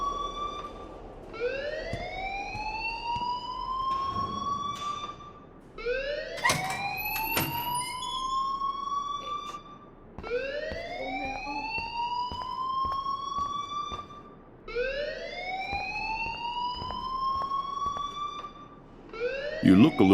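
A school alarm in the Life is Strange video game wails in repeated rising electronic sweeps, loud and steady, with sharp clicks and a few background noises between cycles.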